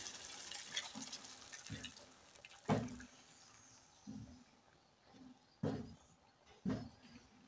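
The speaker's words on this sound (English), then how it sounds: "Now, let's put very little water so that we can mix everything." A small amount of water goes into an egg curry in a cooking pot, heard as a few short, separate splashes and drips spaced over several seconds against a quiet kitchen background.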